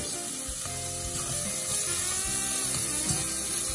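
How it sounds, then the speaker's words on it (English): Onions frying in vegetable oil in a big pot on a stove, a steady close sizzle with light stirring scrapes and small clinks throughout. "you fry the onions until they get a nice golden color"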